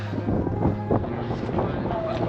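Steady wind buffeting the microphone at the Passo del Rombo mountain pass on the Italy–Austria border, a continuous low rumble with a faint engine hum underneath and some muffled voices.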